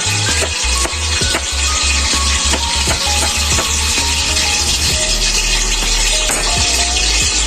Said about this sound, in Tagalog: kumukulo na yung ating mantika